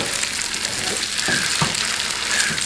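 Spicy crab pasta is stirred in a hot pan, a continuous loud sizzle and frying hiss with a few soft scrapes and knocks of the utensil mixing it through.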